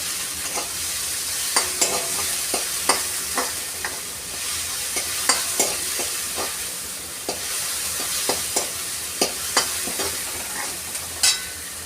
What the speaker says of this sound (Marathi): तर इथे कांदा टोमॅटो मी तेलावर छान असा परतून घेतलेला आहे.